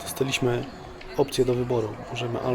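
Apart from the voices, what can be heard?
No everyday noise stands out behind the speech.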